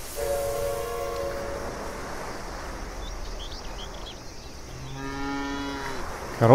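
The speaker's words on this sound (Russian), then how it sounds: "Корова мешает проехать." In the Franz Kafka video game, a cow moos twice, a low drawn-out call near the start and another toward the end, over a quiet ambient background.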